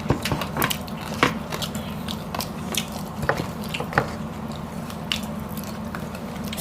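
Crunchy roasted lechon pig ear is chewed close to the mic, with sharp crackling bites and wet squishing in an uneven rhythm over a low steady hum.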